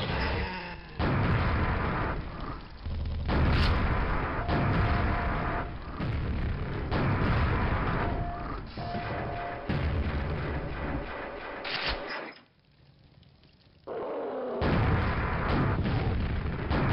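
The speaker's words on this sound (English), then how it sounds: "See how the rocket launcher goes." Rocket launcher blasts in Quake, a long string of loud booming explosions one after another, dropping out briefly before more heavy blasts return.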